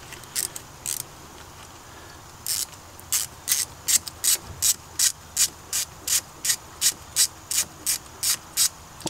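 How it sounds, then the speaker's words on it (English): A ratchet driving a 10 mm socket loosens an ignition coil bolt on a car engine, giving repeated bursts of quick metallic clicking in a steady rhythm, close and clear with no talk. "get the 10 millimeter socket and a ratchet and just,"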